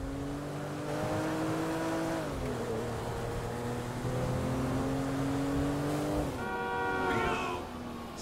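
A car driving in Grand Theft Auto V: a steady engine drone that shifts pitch as the car changes gear and speed, with a sharp rise in revs near the end, heard fairly quietly with no talking.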